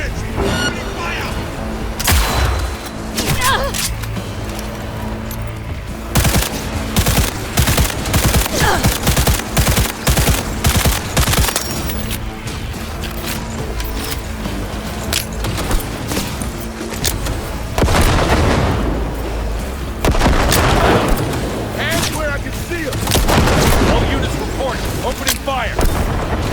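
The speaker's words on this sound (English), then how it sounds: "They're opening fire!" Heavy sustained gunfire in a Cyberpunk 2077 building assault: dense automatic bursts and booming shots roll on continuously at loud, close range, with shouted voices and combat chatter mixed in.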